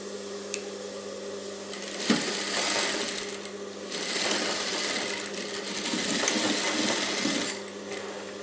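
A sewing machine stitches a blouse seam in continuous runs, steady mechanical whirring that swells and eases in bursts, loud and close with no talk.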